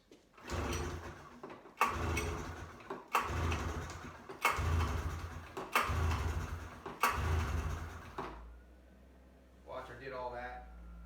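A 1998 Ski-Doo XCR 440 snowmobile engine is cranked with a little choke after a stator replacement. About six loud, rhythmic pull-start bursts come close together, then the engine falls into a low steady rumble.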